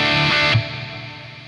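A high-gain electric guitar through a Lekato TANK-G modeler set to its Marshall JCM 800 amp model: a sustained, saturated distorted chord that rings loudly, then drops as a noise gate cuts in, leaving a fading buzzy tail.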